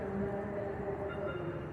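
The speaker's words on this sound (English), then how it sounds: "this train that's coming up this platform that ends. It's not stopping" A metro train passing a station platform without stopping, a steady broad rumble and rolling roar with a faint tonal whine, loud and continuous throughout.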